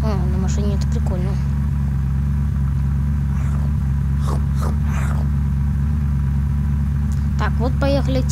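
A car engine in the video game Unturned rumbles continuously at a low, steady pitch while driving, with brief voice-like sounds breaking in over the drone now and then.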